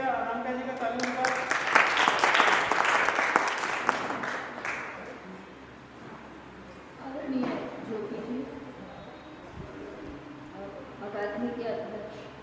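An audience at an art exhibition closing ceremony claps to welcome Anamika, the applause loudest early on and tapering off, with speech continuing over and after it.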